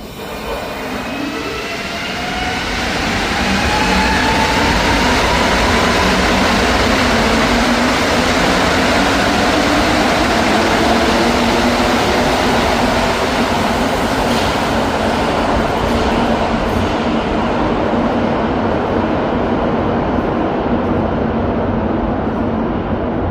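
A metro train runs at speed, its rumble swelling over the first few seconds into a loud, sustained roar with rising whine and wheel noise that holds steady to the end, and no one talks.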